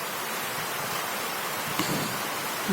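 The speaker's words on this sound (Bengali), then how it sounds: "বৃষ্টি নেমে আসে" Steady hiss of heavy rain falling, a dense even wash of noise throughout, with a brief knock near the middle.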